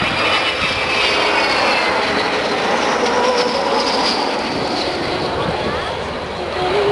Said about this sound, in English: But if you look to your right now, here she is. Avro Vulcan